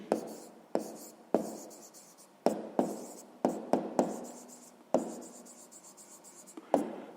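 Pen writing on paper while solving a sixth-grade maths exercise: close scratchy strokes in short bursts separated by sharp taps and brief pauses, fairly quiet, no talk.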